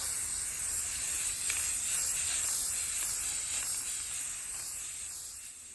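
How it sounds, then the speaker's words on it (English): Flat black spray paint hisses from an aerosol can onto a miniature haunted house model, one sustained close spray that tapers off in the final seconds, heard alone without voices. "I have some flat black spray paint, and we're gonna give this a nice coat of black"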